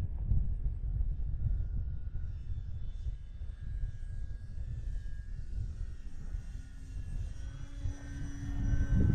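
A radio-controlled model airplane's engine drones steadily in flight as the throttle is raised in strong wind, a continuous buzzing whine with low wind rumble that swells slightly toward the end.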